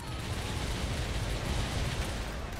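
Explosive mortar strikes in a video game, a dense continuous barrage of overlapping booms and rumbling blasts that blend into one loud roar without clear gaps.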